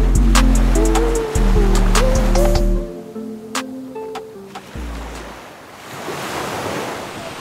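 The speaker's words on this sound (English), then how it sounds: "waves are a little rough, so this is a nice spot to go" Rough ocean waves at a spearfishing spot: broad, steady surf wash with gusty wind noise on the microphone, continuous and fairly loud, joined by some brief tonal sounds early on, no talk.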